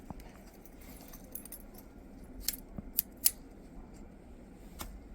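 Collapsible splitboard poles snapping open and clicking together, a few sharp, close metallic clicks over quiet background hiss, no talking.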